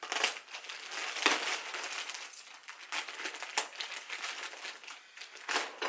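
A plastic Temu haul bag being torn and opened, a loud close crinkling and crushing rustle that comes in repeated bursts with no one talking.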